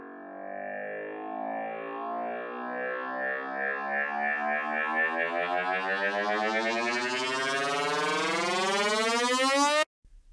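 A synthesized riser made in Serum 2 sweeps steadily upward in pitch, growing brighter and fuller for about ten seconds before cutting off abruptly.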